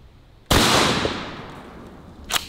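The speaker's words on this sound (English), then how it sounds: "Next up, we have some 9 pellet double-aught buckshot." A shotgun loaded with 9-pellet double-aught buckshot fires at a hand grenade: one sharp, loud blast whose echo decays over about two seconds, followed by a fainter crack near the end.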